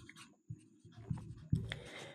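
Marker or chalk scrawls on a classroom board in short scratchy strokes at close range, with a couple of sharper taps.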